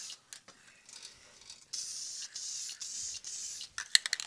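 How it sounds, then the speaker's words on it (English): Aerosol can of Deft satin clear finish sprays a light coat onto a hickory bark and resin piece, in short hissing bursts followed by a longer steady spray, close up with no talking. "is the Deft product, and it's in the satin. So we'll go ahead and just put a very light coat on this."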